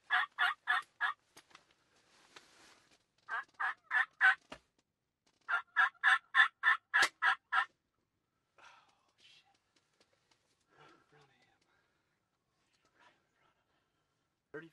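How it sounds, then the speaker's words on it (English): Wild turkeys gobbling in the outdoors, three bursts of rapid rattling gobbles a few seconds apart, fairly close and loud, followed by quiet stretches with faint whispering. "We've had turkeys around us all day long"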